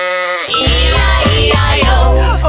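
A sheep bleats loudly and close in a long wavering cry over a bouncy children's song with a steady beat, the bleat running through most of the moment before the music carries on.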